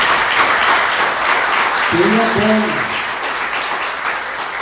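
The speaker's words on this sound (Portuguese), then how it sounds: "Então eu queria que você aplaudisse ao Senhor Jesus" A church congregation applauds with a continuous, even wash of clapping, while a single voice briefly speaks over it partway through.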